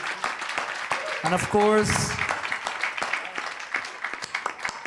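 An audience claps in a hall at a Shrimad Bhagwat Katha gathering, the applause a steady, moderately loud wash under a voice speaking over it.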